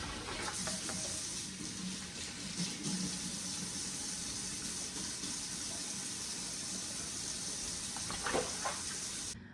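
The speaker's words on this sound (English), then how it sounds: "I'm just gonna wash them with some soap and water and also put them in the sink with some water and vinegar, rinse them off" Running water splashing in a kitchen sink as bell peppers are rinsed in water and vinegar, a steady faint wash with occasional louder splashes and handling clatter.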